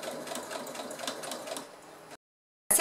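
A sewing machine stitches the top seam of a small fabric pouch made from fabric scraps, whirring in a steady rapid rhythm for about two seconds. It stops into silence, then starts again with a brief loud burst.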